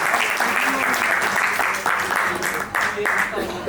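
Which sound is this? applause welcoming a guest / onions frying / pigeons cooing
applause welcoming a guest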